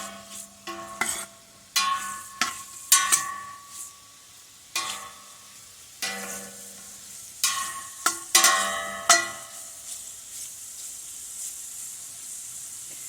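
Andouille-style sausage browning in a hot pan, with soft continuous sizzling punctuated by repeated sharp stirring scrapes and clatters, close and alone.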